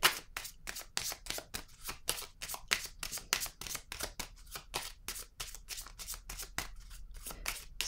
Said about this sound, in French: Je vais y aller avec une autre carte ici.